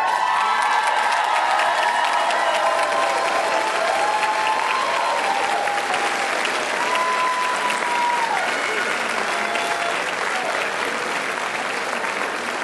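Commencement audience at a 2015 graduation ceremony standing to give sustained, loud applause with shouts, whoops and cheers, a dense steady roar of clapping and voices filling the whole stretch.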